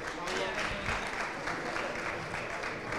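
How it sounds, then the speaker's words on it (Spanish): Applause from an audience at a real-estate industry presentation in Argentina, a dense, even wash of clapping lasting throughout, moderately distant, with voices mixed in. "Podemos renovar el aplauso por esta convocatoria, esta iniciativa"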